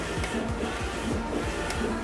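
A color printer with five color nozzles runs a print job, its head sweeping back and forth in a quick repeated mechanical rhythm with steady whirring, close and without speech.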